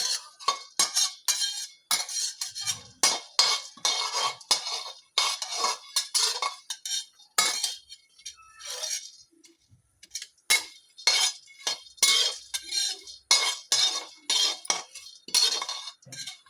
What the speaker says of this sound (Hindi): अब ये पक गए हैं, तो मैं इनको एक दूसरे बर्तन में निकाल लूँगी।